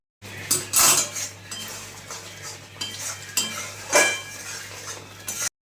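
Metal utensil stirring and scraping pointed gourd curry with milk in a pan, a run of clinks and scrapes in uneven bursts over a steady low hum, fairly close and alone.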